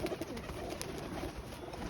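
Pigeons held for sale coo in a low, continuous murmur nearby, several birds overlapping with faint background noise.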